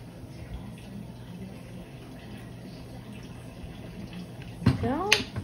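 Kitchen tap water runs steadily while someone washes barbecue sauce off their hands, a soft continuous hiss that ends with a brief clatter near the end.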